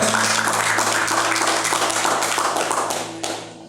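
Congregation applauding during a Bible class, a fast patter of many hands clapping together, fairly close, with a low instrumental hum beneath and the clapping tapering off at the end.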